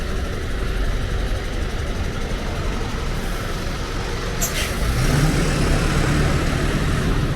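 Dense road traffic in Mumbai near Borivali, with buses among the vehicles, makes a steady low rumble of idling engines and passing vehicles, close and continuous, with a brief brighter whoosh midway.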